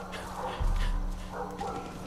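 Boomer the dog in Far Cry 5 gives two short barks about a second apart over a low game-world hum.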